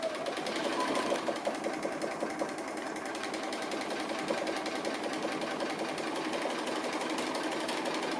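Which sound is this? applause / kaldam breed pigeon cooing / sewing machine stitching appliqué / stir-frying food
sewing machine stitching appliqué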